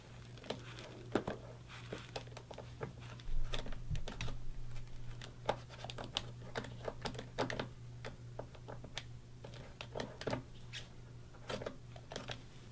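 Knife cutting cloth along a pool table rail channel, a steady run of faint close ticks and scratchy snips over a low constant hum, no talking.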